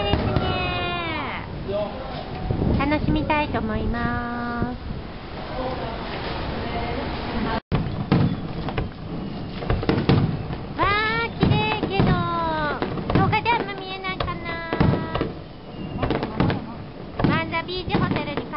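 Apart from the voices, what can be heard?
fireworks display at Manza Beach Hotel, Okinawa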